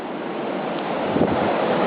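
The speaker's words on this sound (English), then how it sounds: "The wind is still kicking in." Strong blizzard wind rushes in a dense, steady roar that swells slightly toward the end, buffeting close to the microphone with no voices.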